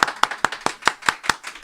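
Steady rhythmic clapping from a small audience gathered in a room for an interview, about eight sharp, evenly spaced claps, close and fairly loud, with no talking over them.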